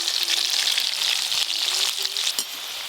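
Crispy chicken pieces fry in oil with a bright, continuous sizzle and crackle, fairly close and steady for a few seconds before dropping slightly.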